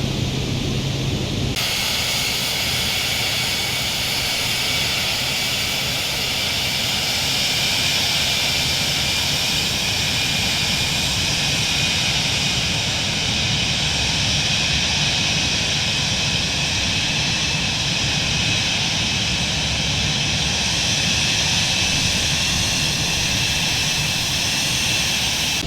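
Cirrus Vision G2 jet in Microsoft Flight Simulator 2020 on approach, with a steady, loud jet engine whine and broadband rush that holds evenly throughout, with no speech.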